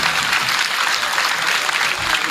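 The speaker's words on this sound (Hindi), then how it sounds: "आप लोगों को तालियां बजानी ही होगी" An audience at a comedic satire performance claps in a dense, steady round of applause that fills the room, loud and continuous with no talking over it.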